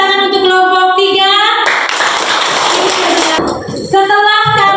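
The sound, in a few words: classroom applause for a student group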